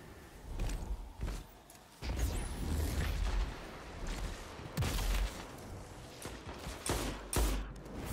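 A grenade goes off during a competitive shooter match: a deep, booming detonation amid a rapid string of sharp gunshots and clattering impacts, fairly faint overall and packed into quick bursts.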